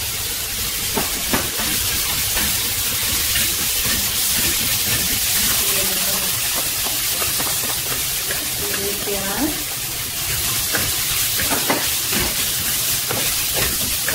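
Garlic and onion fry in a pan with asafoetida and green chilies for Bihari daal pithi, giving a steady close sizzle and hiss throughout with occasional clinks and stirring sounds.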